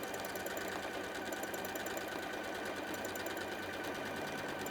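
A sewing machine stitches bleachwork flower petals with a fast, steady mechanical clatter, its needle strokes forming an even rapid pulse at moderate volume without pause.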